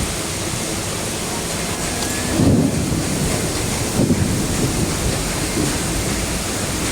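Steady heavy downpour hissing broadly, with a few low rumbling thumps rising over the rain noise.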